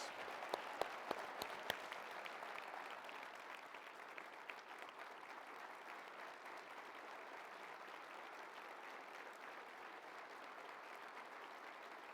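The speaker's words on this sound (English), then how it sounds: "just a round of applause, and everybody just remember Deon Lendore and the magical person he was" Audience at the Bowerman track and field award presentation applauding in memory of sprinter Deon Lendore. A few sharp claps lead into a long, soft, sustained patter of many hands, distant and steady.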